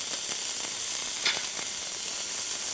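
Meat for pot roast browning and searing in a pan, giving a steady, close, loud sizzle with faint scraping and stirring ticks throughout.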